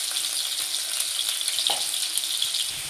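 Potatoes fry in hot oil with a loud, dense, steady sizzle and crackle, plus a brief utensil scrape partway through; no talking.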